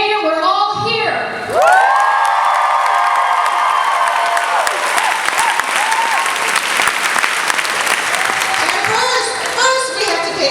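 A festival crowd at YALLWEST 2016 erupts into loud, sustained applause with screams and cheers, a dense roar of clapping that carries on throughout after a brief voice at the start.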